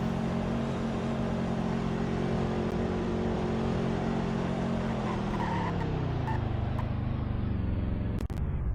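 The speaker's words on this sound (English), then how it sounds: "now that I'm driving it, in my opinion, I think this car may actually have a bit more acceleration than the Supra has" A car accelerates in the Roblox game Greenville with a loud, continuous engine drone that holds steady and then drops in pitch as it shifts or eases off, with faint tire noise and no talking.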